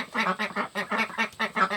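Chickens in a backyard coop run give a quick series of close, loud, rhythmic clucks and squawks, about eight bursts in under two seconds.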